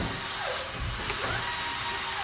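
In an audio drama, a voices imitation drill noises, a rising and falling whine over a faint background, with no other talking.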